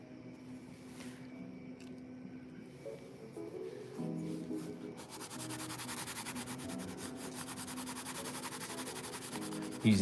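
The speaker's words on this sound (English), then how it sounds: "Using the side of the pencil there. Just gonna blend it in a little bit." The side of a white pencil rubs and blends across a Sharpie sketch on paper, a soft close scratchy rubbing that grows steadier and denser halfway through, quiet and alone.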